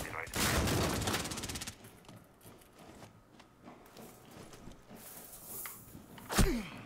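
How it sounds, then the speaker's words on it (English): Loud bursts of gunfire in Rainbow Six Siege, with rapid automatic shots early on, then scattered quieter shots and footsteps, and a sharp close shot near the end. A voice speaks briefly. "Who's shooting me?"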